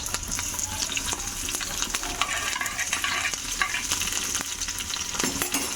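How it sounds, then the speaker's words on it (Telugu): Curry leaves frying in hot oil for a tamarind pickle, giving a steady loud sizzle and crackle with faint stirring clicks throughout, close up and with no talking. "ఒక రెమ్మ కరివేపాకు, ఫ్రై చేసుకోండి."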